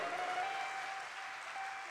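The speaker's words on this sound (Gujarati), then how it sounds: "મેં કીધું તાળીઓથી વધાવો" A large audience at a religious gathering for a murti pratishtha festival in Jetpur applauds, giving a soft, distant, continuous patter of many hands with no talk over it.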